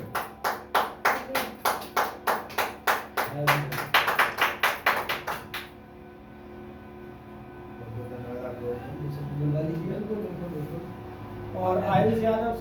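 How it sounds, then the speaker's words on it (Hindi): A gathered group claps in a loud, steady rhythmic unison at a ceremony, about a dozen sharp beats that stop abruptly midway, followed by people talking. "ताली तो बजा लो, ताली तो बजाई।"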